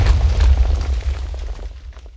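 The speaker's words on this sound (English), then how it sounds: "This happens to be a bomb itself." A loud, deep boom from a bomb explosion sound effect, with heavy low rumble that swells at once and then slowly decays over about two seconds, heard alone without talk.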